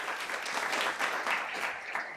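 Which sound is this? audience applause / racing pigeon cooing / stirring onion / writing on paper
audience applause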